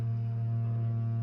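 A reverse osmosis auto shutoff valve under a kitchen sink hums steadily, a close, continuous low drone that holds level throughout without any talk.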